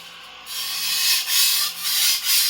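An antique Dufrense and Co. chef knife blade is rubbed back and forth on a sharpening stone to form the bevel, several steady gritty strokes in a swelling rhythm, close and alone.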